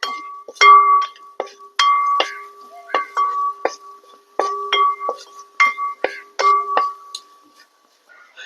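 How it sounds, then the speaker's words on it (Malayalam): A spoon stirs turmeric and asafoetida powder in a pan for papaya and carrot pickle, making a rhythmic series of metallic clinks and scrapes, about a dozen strokes, close and clear against silence. "നമുക്ക് നന്നായിട്ടൊന്ന് ഇളക്കി കൊടുക്കാം."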